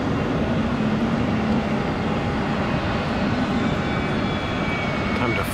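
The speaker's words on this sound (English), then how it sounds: "Time to fire up those engines." Airliner jet engines spooling up at Amsterdam airport, a steady, loud, broad roar with a faint rising whine, heard outdoors from a spotting terrace.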